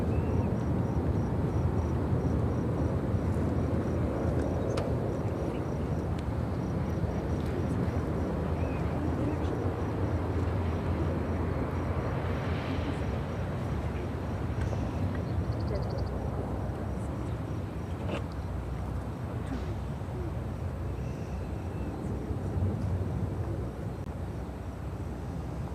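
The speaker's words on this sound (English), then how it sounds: "This is Ethiopian Airlines 575 taking off to Addis Ababa on the 787-8 Dreamliner" An Ethiopian Airlines Boeing 787-8 Dreamliner takes off at Chicago O'Hare with a steady, broad engine roar that stays strong and even throughout, heard from a distance under faint radio chatter.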